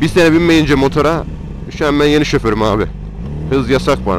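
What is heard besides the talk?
No everyday noises stand out.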